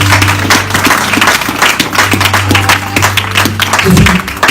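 A church congregation claps and cheers the Lord during a worship service, with dense steady applause mixed with crowd voices and a sustained low musical tone underneath.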